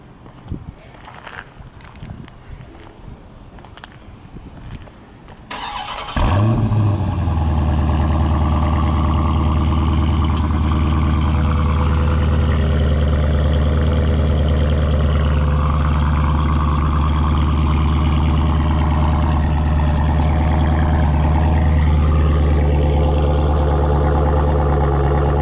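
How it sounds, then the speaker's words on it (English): A 2015 Dodge Challenger Scat Pack engine cranks and fires up at about six seconds, then settles into a loud, steady idle with a deep exhaust rumble, heard up close from the rear after quiet shuffling. "I'm going to walk towards the back so we can hear the exhaust."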